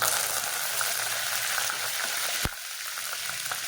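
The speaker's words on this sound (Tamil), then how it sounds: "இப்போ எண்ணெய் காஞ்சதுக்கப்புறம் இதில் கொஞ்சம் கடுகு போட்டுக்கிறேன்" Mustard seeds sputter and sizzle in hot oil, a steady crackling hiss close up, with one sharp pop partway through.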